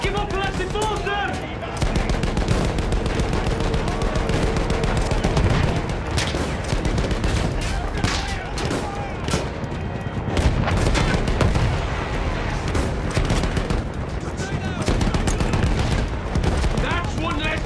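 Machine gun fire in a World War II combat video game: a loud, sustained barrage of rapid shots mixed with heavier booms and battlefield noise, with shouting voices over it.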